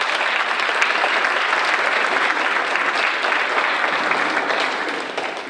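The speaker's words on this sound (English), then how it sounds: "please, again, give yourself a round of applause" At a North Iowa civics bee, an audience gives a sustained, loud round of applause, a dense unbroken patter of many hands that carries on for several seconds before tapering slightly.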